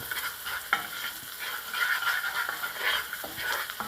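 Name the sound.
butter and leeks sizzling in a pot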